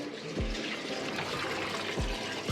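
Water runs from a tap in a steady, close, hissing rush, with a few dull low thuds now and then beneath the continuous flow.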